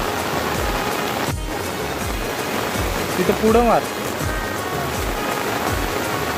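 Rain falls steadily over a flooded river during a fishing outing, a constant wash of patter in the background. A person speaks nearby.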